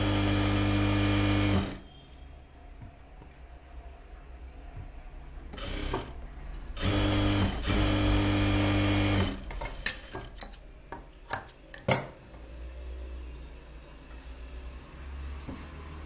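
A sewing machine stitches a blouse seam along a one-inch margin, running in a loud motorized burst at first, then in shorter stop-start runs mixed with sharp mechanical clicks.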